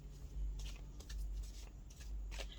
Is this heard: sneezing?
no